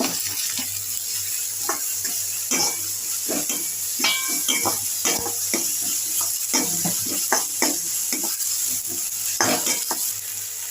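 Onions with ginger-garlic paste frying in a pan, a steady sizzle broken by frequent scraping and stirring clatter from a spoon, close and fairly loud with no talking.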